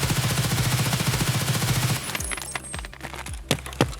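Rapid automatic fire from an HK rifle in the video game Escape From Tarkov, a loud sustained burst followed by several separate single shots and clinking casings.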